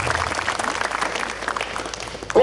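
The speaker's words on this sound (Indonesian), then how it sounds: "Tepuk tangan buat TNI" Audience applause at an Istighosah religious gathering: a dense, steady burst of many hands clapping, loud and sustained throughout with a faint voice underneath.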